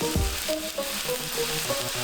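Blood sausage sizzles and fries steadily in a pan for a full English breakfast, with a continuous crackling hiss and a few soft scraping stirs, close and fairly loud, with no one talking.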